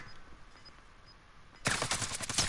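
Gunfire in the video game Call of Duty: Warzone during a quads match: after a quiet stretch, a loud, rapid burst of automatic fire suddenly erupts and continues to the end.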